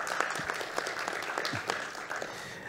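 A crowd claps steadily throughout at a conference, dense and lively, with a few sharper claps standing out near the front.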